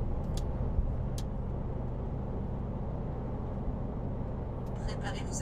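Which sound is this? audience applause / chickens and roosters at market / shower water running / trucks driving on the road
trucks driving on the road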